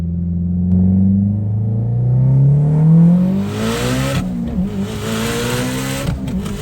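A daily-driven Mitsubishi Evo X tuned to 700 hp accelerates hard, its engine note climbing steadily through the gears, loud and close with a rough, rumbling exhaust and a gearshift drop midway.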